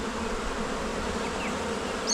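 A steady, close buzzing of honeybees at a split nucleus hive fills the clip, a dense continuous drone with no voices.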